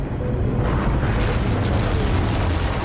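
A powerful rocket launches, producing a dense, continuous roaring rumble that stays loud and steady throughout, with crackling texture and no voices.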